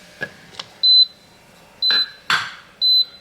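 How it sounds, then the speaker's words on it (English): A cold foam maker gives three short, bright electronic beeps at even intervals, with a few soft clinks and taps between them. "it just beeps at me and lets me know that my cold foam is ready."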